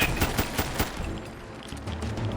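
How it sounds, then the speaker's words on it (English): Rapid bursts from a 10mm SMG in the video game Fallout 4, sharp repeated shots clustered at the start and easing into quieter scattered firing, with no talk. "10 millimeter SMG seems to be doing its thing"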